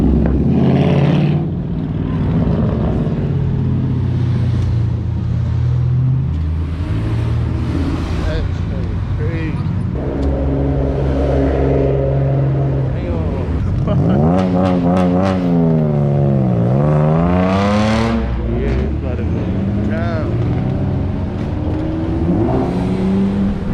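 Cars driving past and revving along a busy street at the H2Oi boardwalk car event, engines rising and falling close by, with one loud rev sweeping up and down, while people talk over the traffic.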